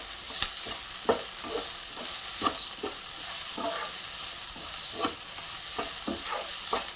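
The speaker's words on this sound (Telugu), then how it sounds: "బెండకాయలు కోసినవి రెడీగా ఉంటే ఒక 4-5 నిమిషాలలోనే అయిపోతుందండి ఇది ఫ్రై." Sliced okra stir-frying in a pan with a constant bright sizzle and a regular series of sharp spatula scrapes and taps, close and without any talking.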